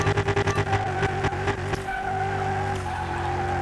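Drag slicks on a restored junkyard hypercar built for about 2000 horsepower spin on a drag strip, a loud high engine whine with a squealing, skidding tire roar that settles into a steady strained drone.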